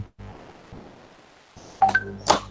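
A mobile phone calculator app gives short electronic key beeps, a couple of quick tones close to the microphone after a quiet room hum.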